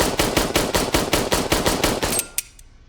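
An M9 pistol is emptied in a fast mag dump from the prone position: about a dozen loud, close shots in a rapid, slightly uneven string, then one last isolated report before the firing stops.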